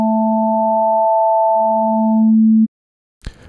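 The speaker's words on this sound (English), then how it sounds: "Switch that to our wave synth. And now we have a pure sine wave." A pure sine wave from the Metasynth wave synth holds steady alone for about two and a half seconds, clean and loud, then cuts off sharply, leaving silence and a short burst of noise at the end.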